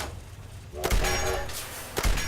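The Railway Rifle in Fallout 4 reloads with two heavy clunks and a hissing, chuffing burst between them, like a small steam engine.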